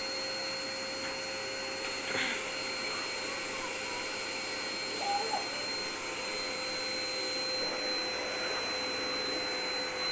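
A vacuum cleaner runs on the floors and rugs of a home, a loud, constant close-up whine with a steady tonal hum and no breaks.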